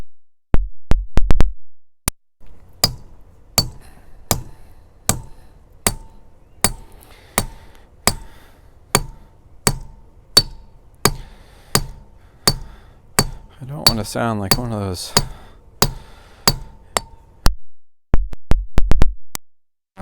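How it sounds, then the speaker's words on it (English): Steady, evenly spaced hammer blows ring against steel wedges set in rock to split it, loud and close, with someone talking briefly partway through. "I'm basically just letting the hammer fall on it."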